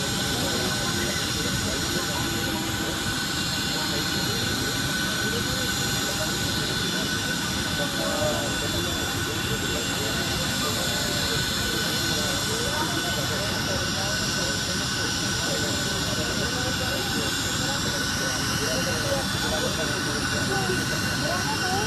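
Jet airliner engine running steadily at Davao airport, a loud continuous roar and hiss filling the whole clip with no breaks.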